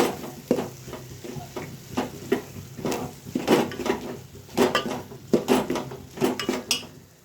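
A spoon stirs mung beans in a cooking pan, giving close, irregular scrapes and metallic clinks in uneven bursts with a faint sizzle beneath.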